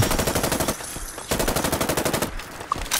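SIG MCX rifle from a Fallout 4 mod firing on full auto, loud rapid bursts of evenly spaced shots in two strings separated by a short gap, with no voice over the gunfire.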